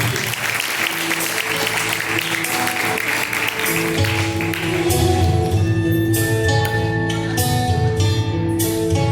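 A church congregation claps steadily and loudly during a live worship service, the crowd's rhythmic applause continuous throughout, joined midway by sustained organ or keyboard tones and sharper rhythmic claps.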